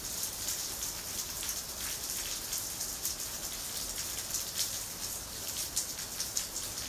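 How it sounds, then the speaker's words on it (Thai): Rain falls steadily outdoors in a constant, even hiss of drops striking surfaces, with no voices and no change in intensity throughout. "ฝนตก"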